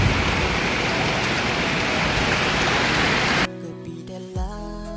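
Heavy rain falls steadily on a rural farm at seven in the morning, a loud, dense hiss that cuts off abruptly after a few seconds, leaving a quieter tonal background.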